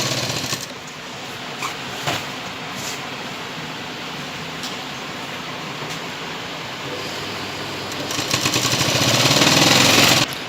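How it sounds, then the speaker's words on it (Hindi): A sewing machine stitches a churidar waistband casing with a steady, continuous mechanical whirr. It runs close and loud without pause and speeds up near the end. "इस तरीके से पूरे गोल में हम सिलाई लगाते हुए इसमें नाड़ी के लिए नेफा तैयार करेंगे।"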